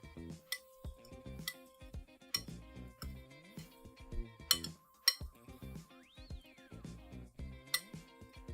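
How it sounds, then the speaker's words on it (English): Food is tossed in a bowl with oil and spices including cayenne, making scattered clinks and taps of utensils against dishware at close range, with irregular pauses and no speech. "Give these a toss up. Get the spices and the oil coating all of them."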